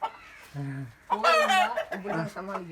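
A fighting rooster on a chicken farm gives short, throaty clucks and a louder, strained squawk up close, with someone talking over it.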